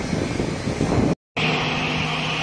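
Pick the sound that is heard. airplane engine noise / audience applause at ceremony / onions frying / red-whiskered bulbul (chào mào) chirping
airplane engine noise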